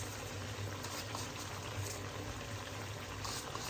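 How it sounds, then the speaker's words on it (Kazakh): A steady bubbling sizzle of lamb frying in a cauldron for kazan kabob, continuous and fairly close, with no voices. "Мінекей достар, етімізді тағы да жарты сағат қуырдық."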